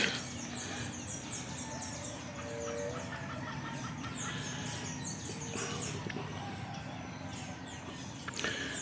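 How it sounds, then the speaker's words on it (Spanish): A bird calls outdoors with chicken-like clucks and squeals scattered over a dense noisy background. "El pájaro."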